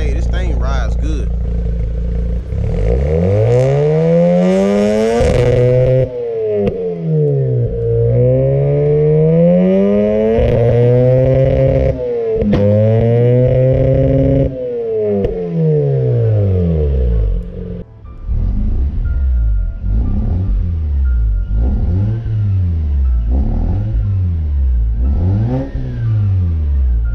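A Mazda RX8 S1 with a rough-running engine revving repeatedly, its exhaust note rising and falling in a wavering, uneven tone like a misfire, close and loud with someone talking over parts of it.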